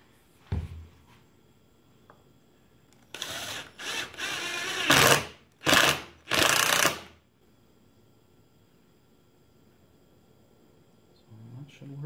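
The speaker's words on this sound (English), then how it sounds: "So I'm just gonna screw those down here somewhere." A handheld power screwdriver drives screws to fasten two small offcut pieces onto an LED wall hanging, sounding as several close whirring bursts of a few seconds each, with a faint knock before them and quiet between.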